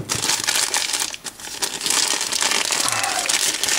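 Sealed plastic packaging holding a euro profile lock and keys crinkles and crushes steadily as it is handled up close, a dense continuous rustle with one brief pause.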